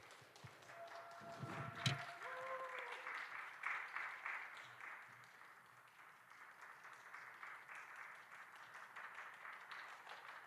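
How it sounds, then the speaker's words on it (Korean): A young adults' church worship gathering applauds to welcome a speaker, with soft, distant clapping that swells after a brief knock and then fades to a faint patter. "성민 형제님 박수로 우리 환영하겠습니다"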